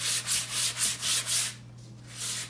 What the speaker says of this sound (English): lightly, just lightly, I'm going to go on the top and sand it